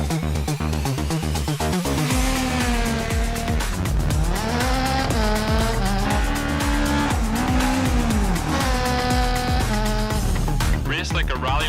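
Classic rally cars race in the WRC 24 video game with its Le Maestros DLC, loud engines revving and shifting through gears with tire squeal, and the revs rise and fall continuously under a voice.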